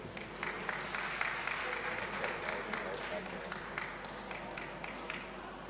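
An audience at an international seminar at a college claps steadily for a bouquet presentation, a continuous patter of many hands heard at a distance under a speaker's amplified voice.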